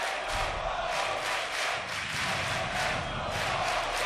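Crowd of Latam esports players cheering and shouting from a balcony at the Six Berlin Major Grand Final, a dense, steady roar of many voices close by, continuous for the whole stretch.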